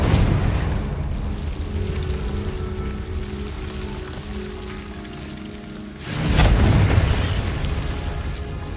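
A spell explosion in a Harry Potter video game bursts out as one sudden loud boom partway through, standing out over a steady hissing, rain-like rumble of game ambience.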